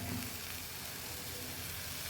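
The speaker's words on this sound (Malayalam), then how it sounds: "ആ സമയത്ത് വേണം നമ്മൾ ജാറ് കഴുകിയ വെള്ളം ഒഴിച്ചു കൊടുക്കാൻ" Water from rinsing a grinder jar hits hot masala paste for a yam curry, a loud, steady, close sizzle and hiss that continues without a break.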